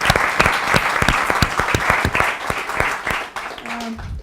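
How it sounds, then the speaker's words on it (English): Conference audience applauds in a hall, loud and close with sharp individual claps standing out over a continuous crowd clatter, sustained throughout before ending abruptly. "can we please have a round of applause for them?"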